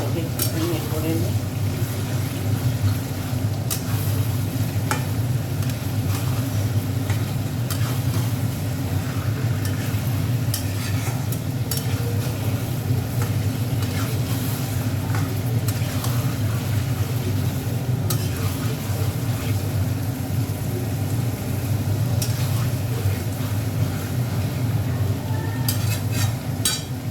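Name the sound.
ginger garlic paste frying and being stirred for chicken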